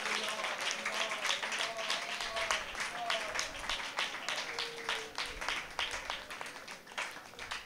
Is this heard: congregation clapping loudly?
yes